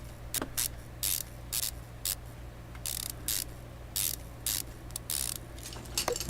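A ratchet wrench works on bolts through solid metal near a car's cross member during a full restoration, giving repeated bursts of close, loud clicking with short pauses between them.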